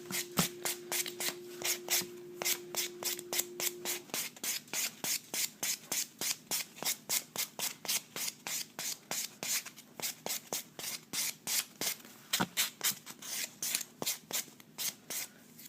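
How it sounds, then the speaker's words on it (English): A buffing block rubs across acrylic pink-and-white nails in quick, regular strokes, a steady scratchy rhythm of about three strokes per second, close and moderately loud. "the last step I'll do is I'll use just a buffing block"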